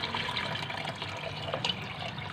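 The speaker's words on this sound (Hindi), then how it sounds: "1 जग के करीब पानी है," Water poured from a jug into a kadhi pakora mixture of yogurt and turmeric in a home kitchen, a steady continuous splashing pour close by with no talking.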